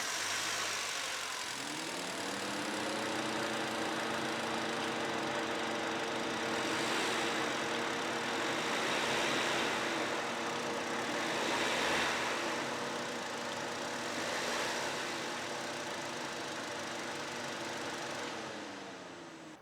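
A Hyundai i20 Sportz with a naturally aspirated four-cylinder engine idles steadily, a smooth low hum with a faint rev rise and fall, heard alone at moderate level, no voices.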